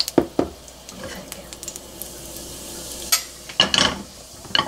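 A ground anchovy and shrimp powder fries in hot oil in a pan for a Korean braised potato dish, giving a soft ongoing sizzle broken by a few sharp stirring and scraping clatters.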